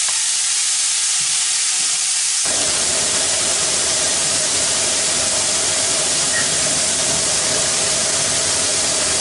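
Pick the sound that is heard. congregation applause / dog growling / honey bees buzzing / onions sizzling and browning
onions sizzling and browning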